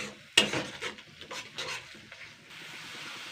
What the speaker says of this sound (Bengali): ডিমটা দিয়েও আমি আবারও 2 মিনিট মতন নাড়াচাড়া করে নেব